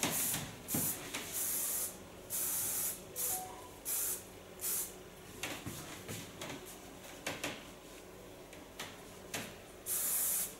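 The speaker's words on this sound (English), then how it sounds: "Take a flexible hairspray so I can still move around with the hairs" Flexible hairspray hisses onto hair in several short, soft bursts with quiet gaps between them, close by and fairly faint, with no talking.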